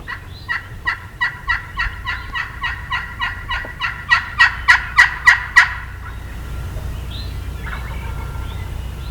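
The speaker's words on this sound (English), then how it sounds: "We heard a bird gobble right here" A wild turkey gobbles in answer to a crystal turkey call on a hillside near pines, a rapid string of a dozen or more sharp, ringing notes that grow louder before stopping, leaving faint outdoor ambience.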